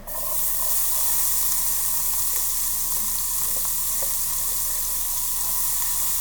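Red onion sizzles steadily in rendered bacon fat in a pan, a loud, continuous frying hiss that holds even from start to finish with no talk over it.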